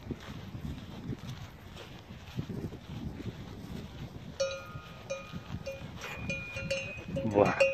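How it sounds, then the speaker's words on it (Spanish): A cow wearing a cowbell on the Via Verde Itsaslur greenway between Pobeña and Ontón sets off a series of metallic clanks that grow more frequent partway through, heard over gusting wind noise outdoors. "Hay una vaca que mira mal."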